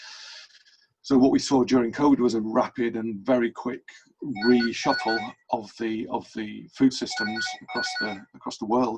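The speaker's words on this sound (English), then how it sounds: "Apologies for my phone in the background, that will go away." A telephone rings in the background during an online food-systems conference talk, its faint repeated tones sitting under continuous close speech from one person.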